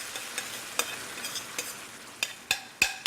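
About a cup of diced tomatoes cooking down in a hot pan, a soft steady sizzle punctuated by scattered crackles and sharper pops toward the end.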